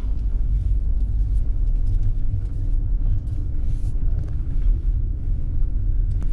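A modified car drives along a beach, its engine giving a loud, continuous low rumble that stays close and steady throughout with no talking.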